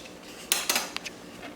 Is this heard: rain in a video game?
no